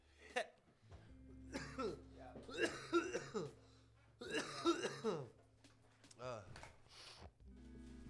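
Several bursts of harsh coughing and throat clearing from smoking come in clusters, close to the mic, with pauses of quiet hum between them.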